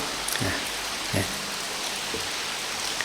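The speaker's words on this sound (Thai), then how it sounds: "จะหมดหน้าฝนละแต่ฝนมันก็ยังตกอยู่" Steady rain falling in the rainy season, a dense continuous hiss of drops with a few soft, louder drips landing nearby.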